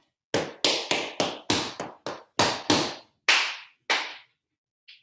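A tap-dance class exercise: shoes rap out a shuffle, heel drops and toe taps, then two hand claps, roughly ten sharp, close, evenly paced strikes with short decays and silence between them, a faint tap trailing at the end.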